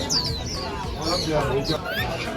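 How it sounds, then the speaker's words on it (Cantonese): Several caged birds at a bird market in Mong Kok, Hong Kong, chirp and tweet in quick, overlapping calls, close by, over a steady background murmur. "啲雀仔聲其實幾好聽嘅"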